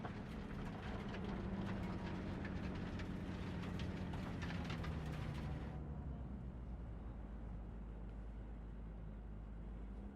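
Train in the video game Cyberpunk 2077, a dense mechanical clatter and rumble with rapid ratcheting clicks that abruptly softens into a duller steady roll partway through.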